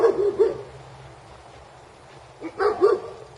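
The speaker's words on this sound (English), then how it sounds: "have a couple of large dogs in this area over here" Large dogs barking outdoors at a rural home near Prospect, Oregon: a few short barks at the start, a quiet gap, then a second burst of barks, moderately distant.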